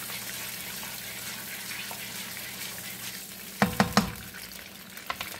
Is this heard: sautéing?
yes